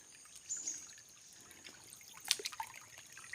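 Creek water trickles faintly in an outdoor nature setting, a soft, thin running sound with a few small splashes and drips near the middle.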